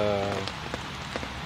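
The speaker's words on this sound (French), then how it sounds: "La pluie s'est mise à tomber" Rain falls steadily on a fishing spot as a constant close patter with scattered heavier drips, and a low voiced hum sounds briefly at the start.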